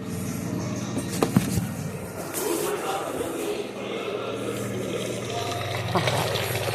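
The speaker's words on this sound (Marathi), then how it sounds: "पहा, आपलं मटण किती छान शिजतंय." Mutton simmering in a pot in its own released juices, giving a continuous watery bubbling hiss with a few light clicks and knocks, close and moderately loud.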